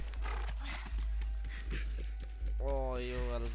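Horse hooves in The Last of Us video game, a steady clip-clop rhythm close up that ends in a whinny, with players talking over it.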